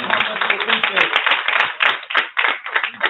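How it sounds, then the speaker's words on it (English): Audience at a talk by a consulting CEO clapping hands in appreciation, a band-limited patter of many hands in uneven bursts, moderately loud and steady. "If y'all really appreciate Coach Shawn Lacy, clap your hands."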